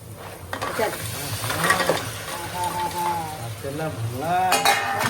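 Crabs carrying eggs sizzle and bubble in spiced masala in a large pot while a utensil stirs and scrapes, with a voice talking faintly in the background.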